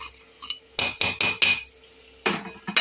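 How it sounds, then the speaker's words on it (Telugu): Chili powder, salt and garlic pounded in a stone mortar, with a series of sharp, close thuds in quick succession, a pause, then a few more strikes. "ఈ వేగే లోపల కారం, ఉప్పు, వెల్లుల్లి దంచుకుందాం"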